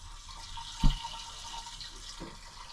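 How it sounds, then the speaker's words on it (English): Fuel gurgles and rushes steadily as it flows through a Harbor Freight battery-operated liquid fuel transfer pump, with a single dull thump near the start. "That's a lot of fuel being transferred there. There's a lot of flow."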